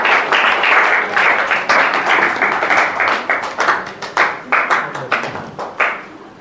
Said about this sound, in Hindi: जोरदार तालियों से विनीता का अभिनंदन करें।